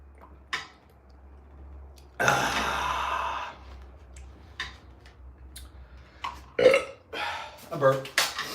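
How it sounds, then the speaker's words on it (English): A single loud burp bursts out about a second long, preceded by a soft grunt and followed by scattered clicks and short voiced sounds, close to the mic in a quiet room with a low steady hum beneath. "A burp."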